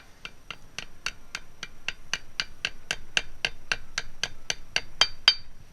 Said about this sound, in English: And tapping on it gently.